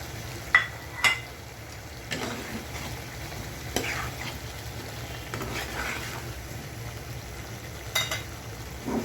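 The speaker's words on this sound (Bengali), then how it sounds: "দেখতে পাচ্ছেন মাছটা কষানো হচ্ছে এখন আমি এর ভিতরেই কঠিন মুখিগুলো দিয়ে দিচ্ছি" Hilsa fish braising in a pan with taro roots, with a soft continuous sizzle and occasional stirring scrapes and clinks of utensils, quiet and close.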